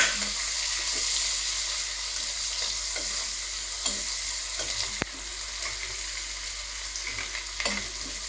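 Ginger, garlic and onion frying together in a pan, a steady close sizzle with occasional stirring scrapes and a sharp clack near the middle, no voices.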